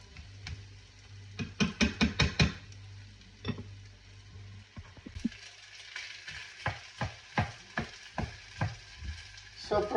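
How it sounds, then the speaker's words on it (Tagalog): Leftover rice is stir-fried in a pan, with bursts of spatula scraping and tossing against the pan in quick rhythmic runs over a soft sizzle, close and fairly quiet. "So, nagisa na natin ang ating bahaw"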